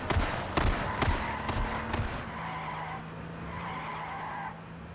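A pickup truck in a shooting video game skids with squealing tires and a few sharp thumps, then settles into a steady engine drone that carries on at moderate volume.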